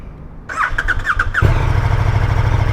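A KTM 1290 Super Duke R Evo motorcycle cranks with a quick whirring starter burst, then fires up and settles into a loud, steady, close idle rumble.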